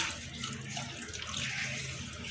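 Water from a measured cup pours steadily into a cooking pot of salted mutton, a continuous splashing rush heard close and on its own.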